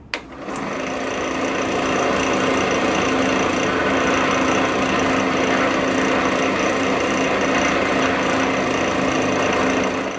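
Steady, continuous whir of a lathe spinning a cherry hollow form as finish is buffed in, a loud, unbroken mechanical drone from start to end with no talking.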